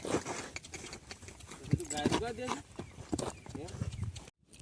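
A mare walking along with hooves clip-clopping in a steady rhythm, close by, mixed with people talking and other busy background noise.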